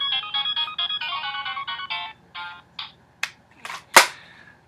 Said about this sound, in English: that one powers on as well, and it's made by Jack Specific, and those are the sounds it makes